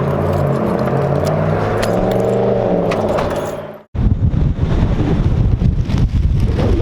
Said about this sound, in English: It's really windy and it's raining on my face